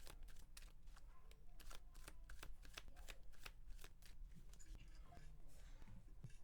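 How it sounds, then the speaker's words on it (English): Cards from a Star Wars Unlimited deck being shuffled, a steady run of quick riffling snaps and flutters close by, continuing without pause throughout. "Oh, let's shuffle, shuffle, shuffle."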